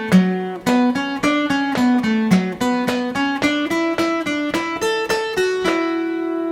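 Guitar plays a melodic phrase from a tune, opening with two pickup notes, as a steady run of clearly plucked single notes at moderate loudness, each one distinct and rhythmic with no talking.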